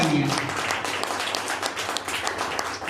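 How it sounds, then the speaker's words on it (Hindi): A business-event crowd claps loudly for a guru, dense continuous applause filling the hall with a few brief voices mixed in. "तो इनके लिए एक बार जोरदार तालियां।"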